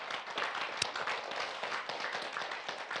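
Audience applause for an absent person at a Jeung San Do lecture hall, a steady patter of many hands clapping for about three seconds with one sharper clap standing out.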